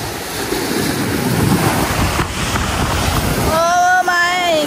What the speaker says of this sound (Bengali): অনেক ঢেউ দিচ্ছে, ধাক্কাতে ফেলে ফেলে লাগে